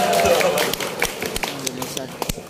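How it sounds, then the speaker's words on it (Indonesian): Scattered hand clapping from a gathering of religious counselors at an Indonesian community event, uneven and fairly close, mixed with voices talking over it. "Tepuk tangan."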